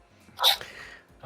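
A single sharp sneeze bursts out close and loud, a short breathy explosion that quickly trails off into quiet.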